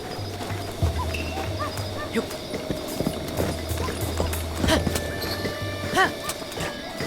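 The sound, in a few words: horse galloping in Zelda: Breath of the Wild video game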